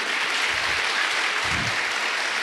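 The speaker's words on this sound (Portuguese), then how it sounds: "Pode aplaudir a ele, porque só ele podia fazer." A church congregation applauds during a sermon, a dense, steady wash of clapping that fills the whole span without a break.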